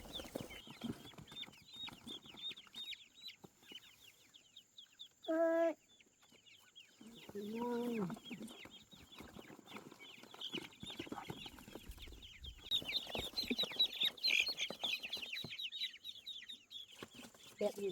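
Chickens cluck and chatter steadily in a rural Vietnamese setting, close and lively with bursts of rapid clucking, while a person briefly calls out and a second voice speaks partway through.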